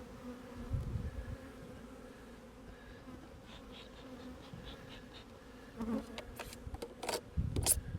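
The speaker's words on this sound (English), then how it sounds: "Just make sure those bees are shaken off" Honeybees hum softly around an open hive, a faint continuous buzz with occasional closer passes and a few soft knocks and rustles.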